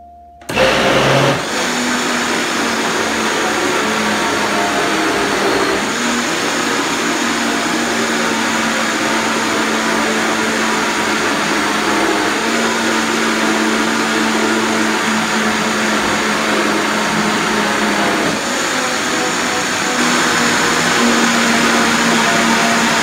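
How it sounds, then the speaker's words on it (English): A blender whirs continuously while blending cauliflower cashew alfredo sauce with oat milk, a loud steady motor drone that starts abruptly and keeps running with slight shifts in pitch as the mixture thickens. "Now we'll go ahead and leave it in the blender until we get the consistency that we want."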